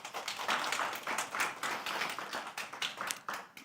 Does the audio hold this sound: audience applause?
yes